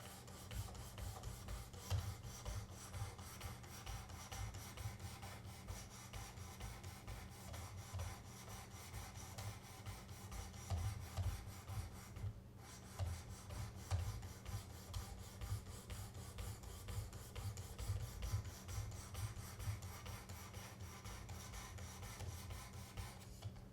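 Steady rasping strokes of a Buck 180 Crosslock knife blade drawn across a Work Sharp sharpener, a continuous low grinding scrape running close and moderately loud throughout with no talking.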